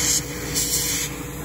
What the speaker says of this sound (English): I just spray it till it looks a little shiny.